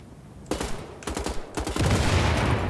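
Gunfire and an exploding object in the Wolfenstein: The Old Blood video game, with a burst of rapid shots followed by a louder, sustained blast and rumbling debris, close and loud.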